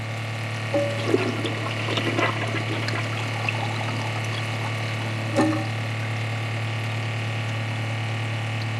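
Water draining from a clogged Kohler toilet bowl, a steady close rushing and gurgling flow with a constant low hum and a few brief splashes, no talk.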